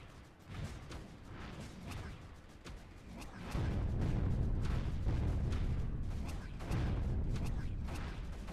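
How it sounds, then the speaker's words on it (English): Mortar fire in the strategy game Creeper World 3, heard as a steady stream of muffled thuds and booms that grows denser and louder partway through, continuing throughout. "And here comes the mortars."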